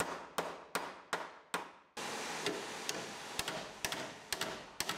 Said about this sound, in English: I'm just going to hammer it out.